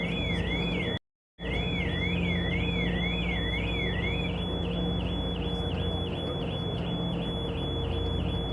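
A car alarm aboard a ferry to the Isle of Skye in Scotland blares a loud, continuous warbling siren that cycles steadily, cutting out briefly near the start before resuming unbroken, with no voices.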